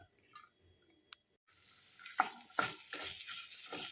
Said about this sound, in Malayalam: അതിലേക്ക് ഉള്ളിത്തണ്ട് അരിഞ്ഞതെല്ലാം ഇട്ട് കൊടുക്കാം